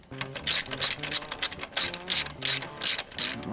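Ratchet clicking as the last bolt, fitted with its original washers, is tightened on motorcycle suspension: a series of close, crisp ratcheting strokes in an uneven rhythm, with a voice talking in between.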